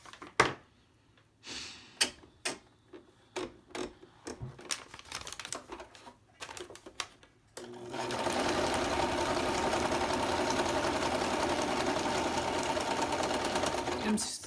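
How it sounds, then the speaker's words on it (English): Sewing machine stitching the edges of a paper craft project: after scattered handling clicks and taps, a loud, steady, continuous whirring run of stitching fills the second half. "So now I'm going to sew the edges here."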